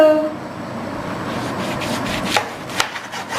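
A knife cuts through a giant bitter lemon on a board with a steady rough scraping and rubbing, then two sharp, close chops.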